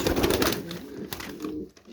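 A domestic pigeon kept among paired birds coos softly and close by in a few low, rolling calls, with faint background noise and no speech.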